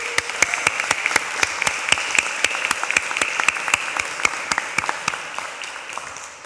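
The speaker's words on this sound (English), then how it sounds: "this is the first time I've been in front of graduates hearing loud applause" Graduates at a graduation ceremony receive loud, dense applause from a large crowd, with many sharp individual claps in a sustained, even wash that fades slightly near the end.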